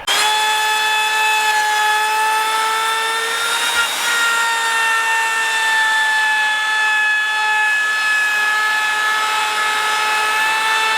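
A power tool bit spins at high speed, cutting a chamfer into timber for wooden gates. It gives a loud, steady whine with a strong tonal pitch that runs continuously and shifts slightly partway through. No speech is heard.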